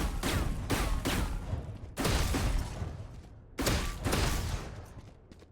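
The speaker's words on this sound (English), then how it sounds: "as you can see, the bullets shoot really quick, so you can just double click mouse 1 and get 2 shots off really quick" Pistol shots in the VALORANT video game ring out in quick bursts, loud and sharp, with several rapid cracks and a few pairs fired almost back to back, each trailing off, with no speech.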